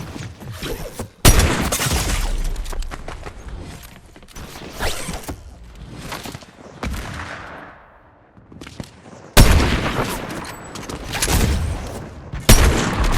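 Sniper rifle shots in the video game Fortnite: several loud, sharp bursts with mechanical clatter in between, including a heavy blast near the start and more near the end.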